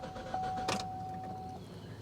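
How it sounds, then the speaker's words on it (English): A Chevrolet Cruze engine cranks without starting, a steady starter-motor churn with a brief louder burst partway through, heard close up with no talking. "Still a crank no start."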